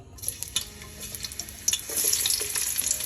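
Hot oil being tested before frying eggplant, a crackling sizzle that builds into a dense bubbling spatter near the end, close and moderately loud, with a few sharp pops.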